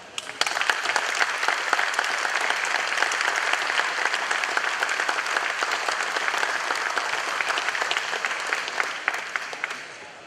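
Sustained audience applause at an awards ceremony at Naval Air Station Fort Worth honoring veterans, a dense, steady clapping from a large crowd that holds for about ten seconds before tapering slightly at the end.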